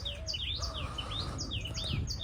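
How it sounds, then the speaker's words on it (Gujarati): Forest birds at Jadeshwar woods call and chirp in quick, rising and falling tweets, several overlapping at moderate distance over a low rumbling background, with no voices. "કેવા મસ્ત પક્ષીઓનો અવાજ આવે છે."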